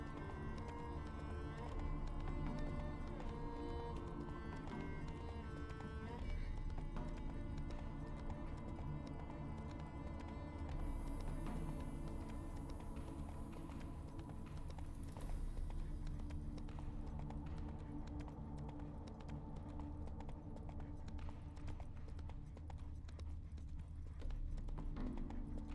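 Roach, the horse in The Witcher 3 video game, clip-clops along with steady, rhythmic hooves under game music for a long stretch, loud and close, with no talk.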